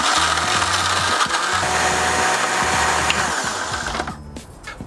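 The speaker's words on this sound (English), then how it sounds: "Cap that off and blend until fully integrated." A blender roars continuously with a churning, rattling grind as it blends ice, banana and orange juice into a drink, winding down near the end.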